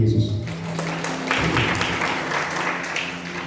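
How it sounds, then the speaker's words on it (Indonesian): A church congregation at a Bali worship service claps after a low spoken voice at the start. The applause builds into steady, moderately loud clapping that continues for about three seconds. "Tepuk tangan bagi Yesus."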